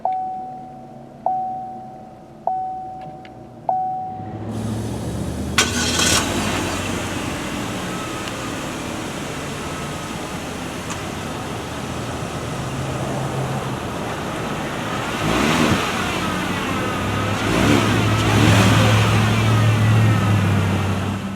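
Chime-like warning tones sound three times before a 2017 Chevy Spark LS engine cranks and catches, then settles into a steady idle with a brief rev, heard from inside the car.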